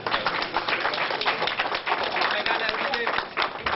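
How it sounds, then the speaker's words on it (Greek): Warm applause greets Antonis Samaras, leader of New Democracy, at the Larissa prefecture offices: dense, steady clapping from a crowd running the whole time, with voices mixed in underneath. "Εκεί τον υποδέχτηκαν με θερμό χειροκρότημα."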